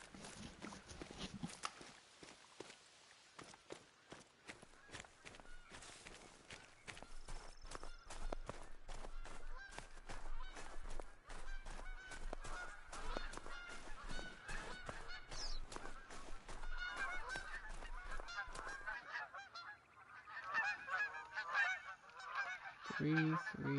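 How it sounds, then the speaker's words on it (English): Canada geese honking in the hunting game theHunter: Call of the Wild, a dense, continuous chorus of rapid calls from a flock that carries on for about twenty seconds, with a brief lull before the honking picks up again. "Canada geese."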